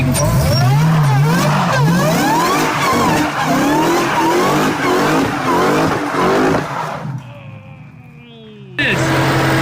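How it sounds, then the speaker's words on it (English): An MPV fitted with a supercharged Hellcat engine does a burnout: a roaring engine revs hard and repeatedly under loud, shrill tire squeal close by, and the roar drops away briefly before returning. "One more little burnout."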